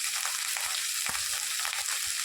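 Chili and ground spices fry in oil in a pan, giving a steady, close crackling sizzle with a few soft stirring knocks and no voices.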